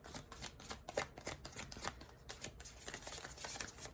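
Tarot cards being shuffled, a steady run of crisp riffling and flicking from close by, with a brief pause where a card is drawn and no talking.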